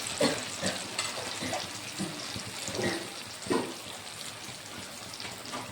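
Malpua batter frying in hot oil over a full flame, a soft continuous bubbling sizzle with faint intermittent clinks and stirring, fairly quiet with no talking.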